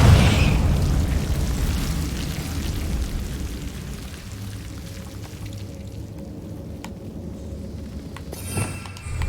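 A Confringo fire spell explodes in Hogwarts Legacy, opening with a loud booming blast that rolls off into a long rumbling decay, followed near the end by a second sharper burst.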